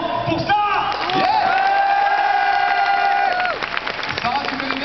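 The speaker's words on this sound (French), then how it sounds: "je pense que le public a tonnerre d'applaudissements pour Sarah." Crowd at a Japan Expo Sud 2012 stage event cheering and applauding loudly for a guest named Sarah, a steady roar with whoops and whistling voices rising over it, staying full for several seconds before tailing off slightly.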